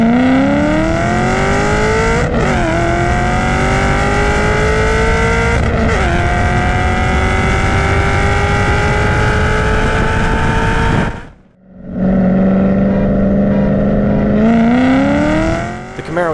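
An all-motor 4.6 Mustang drag racing a stock Camaro on a cold track with snow flurries, engines roaring loud and close as they rev through rising gear pulls, a brief drop at a shift before climbing again.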